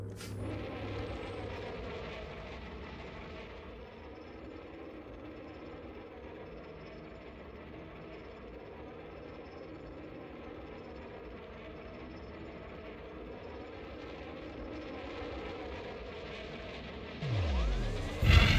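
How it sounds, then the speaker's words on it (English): Frame shift drive spooling up in a space video game, a steady low droning hum that holds at moderate level and swells slightly near the end, with no talk over it. "I can hear the frame to drive spooling up."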